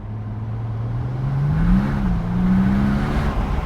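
A Mercedes SL65 AMG Black Series accelerating in second gear, its engine note climbing steadily in pitch as a loud, continuous interior drone with a slight dip and rise partway through.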